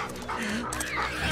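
A dog in the video game The Last of Us Part II whimpers and yips in short bursts, mixed with excited human voices talking over it.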